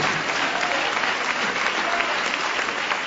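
A church congregation applauds in praise during a worship service, steady dense clapping filling the space without pause.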